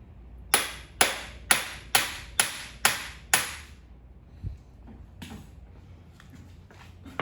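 Seven sharp metallic hammer blows on a CV axle of a 1998 Toyota RAV4 land in a steady rhythm, close and loud, followed by quieter scattered taps and knocks.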